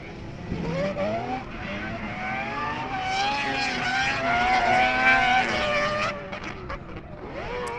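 Rotary-engine race cars in a drift battle screaming at high revs, rising and falling as they rev hard and loud together, with a rough buzzing, droning tone throughout.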